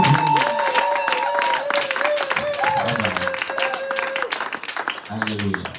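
A church congregation applauds and cheers for the pastor, with clapping running under a voice speaking and chanting, the crowd sound swelling then fading near the end.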